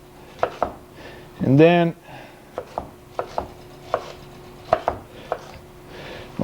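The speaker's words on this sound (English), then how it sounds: "What I want to do is cut these into strips about a ½ inch wide" A kitchen knife cuts seeded vegetables into half-inch strips on a board. Irregular crisp taps are broken by one brief grinding scrape, and a voice speaks briefly.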